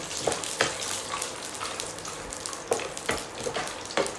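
Peanuts sautéing in a pan for Gujarati bataka poha, a steady sizzle broken by stirring scrapes and clicks, close by and with no talking.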